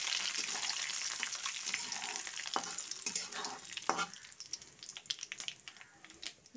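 Fresh washed curry leaves hit hot tempering oil for a village-style mango pickle, setting off loud, continuous crackling sizzle and spattering that gradually thins out, with no talk.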